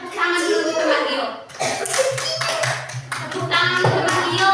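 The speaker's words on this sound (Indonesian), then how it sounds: "Tepuk tangan dulu untuk Mbak Gio." A class of pupils claps hands together in a lesson, making rhythmic, fairly loud clapping mixed with children's voices and chatter throughout.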